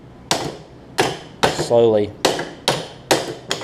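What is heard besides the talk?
hammer tapping out a spacer on a riding mower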